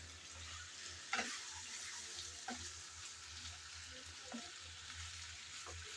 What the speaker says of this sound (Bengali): আবারও আমি কিছুক্ষণ নেড়ে চেড়ে নিয়েছি